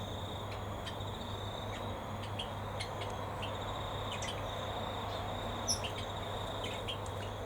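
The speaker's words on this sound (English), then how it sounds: "Turquoisines keep yelling at the Javas, but the Javas don't back off." Turquoisine parrots and Java sparrows call in an outdoor aviary, with thin, high chirps and short sharp calls scattered over a steady low hum and faint background hiss.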